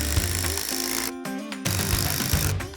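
A power tool drives screws into a wood 2x4 while a gate is being built, whirring loudly in a steady buzz and cutting off briefly before spinning up again.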